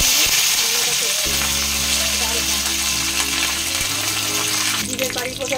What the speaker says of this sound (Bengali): জিরে কারি পাতা ফোড়ন দিয়ে দিলাম